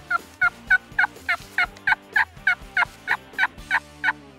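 Wild turkeys gobble in a steady series of about fourteen sharp, evenly spaced calls, close and loud with nothing else over them.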